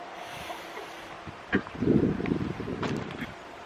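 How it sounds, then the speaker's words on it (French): Outdoor wind buffets the microphone in low, rumbling gusts. It is faint at first, then swells in the second half, with a few sharp thumps. "Je sais pas si vous allez m'entendre, pardon, avec le vent."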